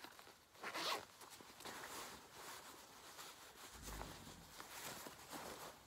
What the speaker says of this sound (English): Oh, but they have a zipper there.